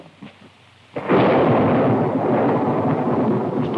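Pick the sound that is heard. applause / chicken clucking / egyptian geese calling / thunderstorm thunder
thunderstorm thunder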